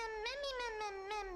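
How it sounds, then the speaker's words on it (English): A house cat yowls inside a home office, letting out one long, wavering, insistent cry close by over a faint steady hum. "My cat has decided to yowl for the desire to leave the office."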